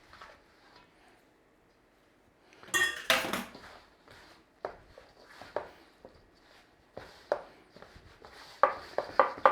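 Pierogi pastry dough is mixed in a bowl, with irregular clinks, knocks and scrapes of a utensil against the bowl, quiet at first and then in busy bursts, nearby and without talk.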